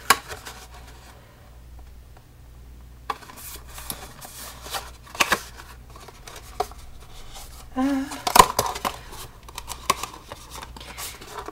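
A bone folder or scoring tool draws along score lines on cardstock while a gift box is assembled, giving soft scraping strokes and light taps under a faint low hum, with a sharper rustle late on.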